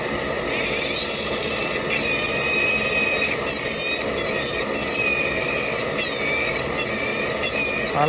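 A rotary grinder shapes a dental metal framework for a metal-ceramic restoration, giving a close, shrill, squealing rasp in repeated bursts with brief pauses between passes.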